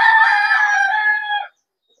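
A rooster crows once, a loud, clear, drawn-out call lasting about a second and a half, then silence, with chickens kept near a home garden.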